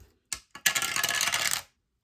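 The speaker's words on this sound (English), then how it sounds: "Oh, throw my dice away" Dice are thrown during a cash-stuffing challenge. Two quick clicks are followed by about a second of dense rattling as they tumble and settle, close and loud.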